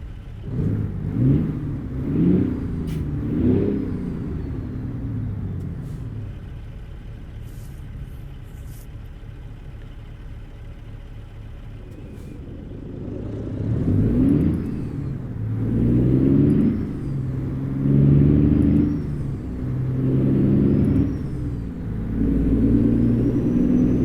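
A truck engine in American Truck Simulator revs up and down in repeated surges, dropping to a steady idle in the middle before climbing through rising revs again, close and loud.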